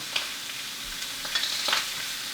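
Pork chops browning in a hot pan, a steady low sizzle and crackle with a few sharper spits and scrapes as the meat is moved, no one speaking.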